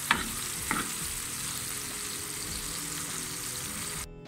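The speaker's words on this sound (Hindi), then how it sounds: "प्याज को हम गोल्डन ब्राउन करेंगे।" Onions frying with tomatoes and a green chili in a pan for goat head curry, a steady loud sizzle with a couple of sharp stirring scrapes near the start, no talking.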